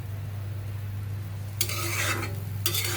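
Spice masala for a free-range country chicken being stir-fried, with broadband sizzling bursts and scraping stirs over a steady low hum, loud and close after a quiet start.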